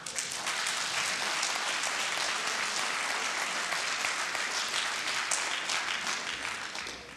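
Sustained audience applause at a town residents' meeting about a planned new prison, dense and steady for about seven seconds before easing slightly at the end.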